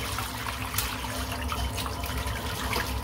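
Tap water runs steadily into a sink while a shaving brush is rinsed under it, giving a close, continuous splashing hiss with small irregular spatters throughout.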